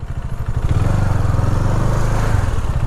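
Motorcycle engines idle steadily while the bikes are brought in to park at an eco camp near Mariani, a loud, close, continuous low rumble with no talk.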